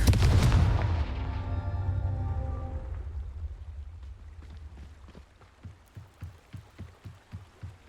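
Confringo spell explosion in the Hogwarts Legacy video game, a loud booming blast that rumbles and fades over a few seconds, followed by a quick run of rhythmic thuds.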